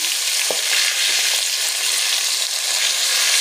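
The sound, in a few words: fish pieces frying in oil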